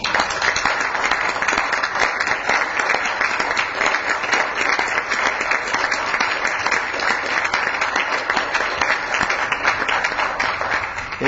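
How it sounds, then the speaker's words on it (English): A council meeting audience on its feet gives sustained applause, a thick, even wash of many hands clapping for over ten seconds, loud and unbroken. "So I want everybody to stand up and give her applause."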